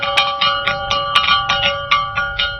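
Repeated rhythmic strikes on a 5,000-year-old Nubian rock gong, each hit a sharp attack blooming into a resonant, bell-like metallic ring, loud and near, with tones overlapping.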